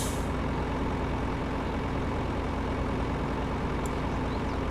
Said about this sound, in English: Yep, the brakes are released